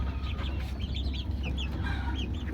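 Desi chickens on a farm cluck in a close, continuous chatter, with repeated short calls over a low steady rumble and no speech.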